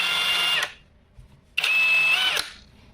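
A budget cordless 18V brushless impact driver from AliExpress whirs in two loud, close bursts, one short and then a longer run after a brief silence, with no speech.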